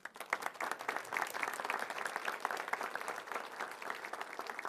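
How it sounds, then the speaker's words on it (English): A seated audience applauds grantees at a grant announcement ceremony, steady dense clapping that stays fairly even and moderately loud for several seconds with no voices over it. "Please give them a round of applause."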